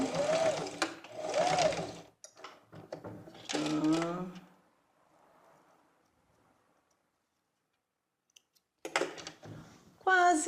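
A sewing machine runs in short bursts while backstitching the seams of a flared eight-panel skirt, its close, rapid mechanical whir starting and stopping with quiet pauses between.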